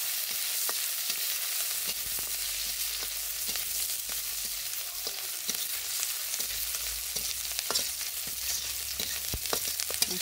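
Oil sizzles and fries steadily in a pan over a village cooking fire, a dense continuous crackle with scattered sharper pops and occasional stirring clicks, close and fairly loud throughout with no talking.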